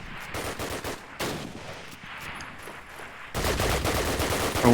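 Rapid bursts of gunfire in a competitive multiplayer shooter match, with rifle cracks and rattling volleys, growing louder and denser toward the end.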